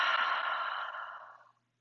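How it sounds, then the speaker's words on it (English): A deep breath exhaled slowly during a calming yoga session, a soft airy sigh lasting about a second and a half that fades into silence, heard alone and close. "Inhale in and exhale out."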